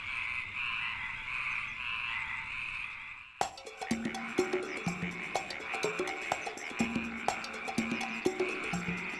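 Frogs croak loudly in a dramatized biblical film scene, a dense chorus of rhythmic croaks that bursts in suddenly after a quieter stretch, continuing close and constant with no speech.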